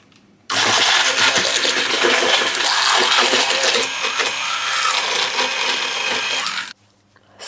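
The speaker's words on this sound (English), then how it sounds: "we need to use hand blender" A hand blender whirs through tangzhong in a bowl, a loud continuous motor buzz that starts abruptly and runs steadily for about six seconds before cutting off.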